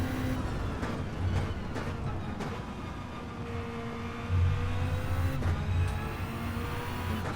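Toyota GT-One race car in Gran Turismo 7 at Le Mans, engine droning steadily at high speed with shifting tones and brief surges, continuous and fairly close, no talking.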